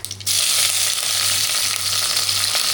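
Mustard seeds and curry leaves sizzling loudly in hot oil, a dense, continuous crackling hiss that starts abruptly and holds steady without any talk.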